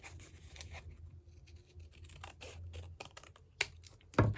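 Paper being trimmed for a junk journal belly band, with scissors snipping and paper crinkling in short, close, quiet bursts and a sharper cut and rustle near the end.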